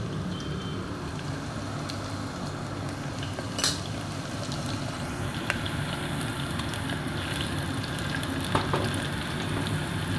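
Cumin and onion frying in hot oil in a home kitchen, a steady close sizzle running throughout with occasional clinks of a spoon against the pan.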